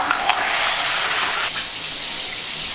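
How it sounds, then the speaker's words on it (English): Shower water running steadily in a home bathroom, a loud continuous hiss and spatter from start to end, close and unbroken, with no talking. "let's go in the shower."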